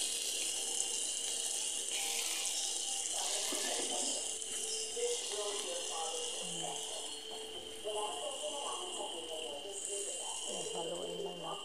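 Pure coconut milk (kakang gata) pours steadily into a cooking pan for shrimp paste, a continuous liquid splashing and trickling with light clinks, while a voice talks over it.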